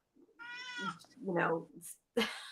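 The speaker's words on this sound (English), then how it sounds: "there's your cat again" A cat meows several times up close, drawn-out tonal cries with a short pause between them, ending in a sudden burst of noise.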